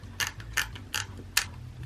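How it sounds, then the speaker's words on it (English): Film being wound on a Lomography Diana Mini camera, four evenly spaced ratcheting clicks from the plastic winding wheel, close and clear with no talking. "all you do, wind it."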